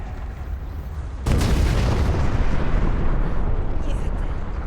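A heavy explosion in the video game Crysis erupts suddenly and keeps booming as a loud, sustained roar that drowns out the quieter background before it.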